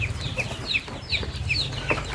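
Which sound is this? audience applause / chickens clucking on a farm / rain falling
chickens clucking on a farm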